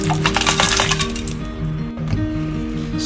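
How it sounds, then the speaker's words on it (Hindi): Ice cubes drop into a glass of salted yogurt drink, giving a quick run of close, sharp clinks and knocks, then a few scattered clicks as they settle, with a music track playing underneath. "जैसे इसमें हम आइस डाल देंगे।"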